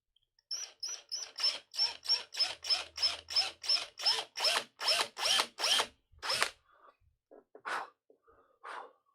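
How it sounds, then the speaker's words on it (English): A power drill driving screws to fit cheap replacement tuners on an acoustic guitar, about fourteen short whirring bursts in a steady rhythm followed by a few slower, sparser bursts, close and loud with no voices. "So I'm just going to hit it with the drill."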